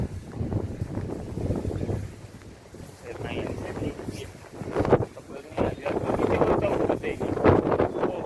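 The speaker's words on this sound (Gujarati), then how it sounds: "પવન તો જો" Gusty wind buffets the microphone with rough rumbling bursts that rise and fall throughout, in a garden with lemon trees.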